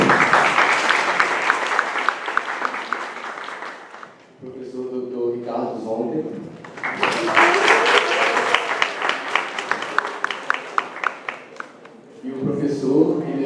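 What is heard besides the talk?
audience applause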